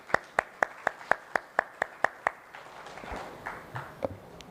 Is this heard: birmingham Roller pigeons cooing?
no